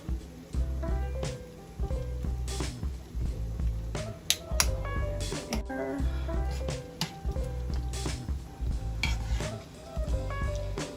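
Garlic paste sizzles in a hot skillet beneath a busy run of clinks, taps and utensil scrapes against the pan, with the frying hiss staying low and constant through the clatter.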